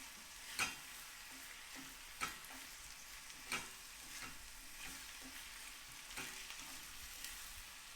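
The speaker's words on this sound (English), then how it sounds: "in goes our 2 cloves of garlic. These are small garlic cloves. Okay, give it a little mix." Two small garlic cloves with yellow carrot cooking in a pot of Turkish lentil soup give a faint, steady sizzle. A handful of soft stirring knocks sound at irregular intervals, with no voices.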